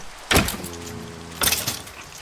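A door closes in Minecraft, heard as two short, sharp game sound effects about a second apart, with a faint ringing tone between them over a steady background hum.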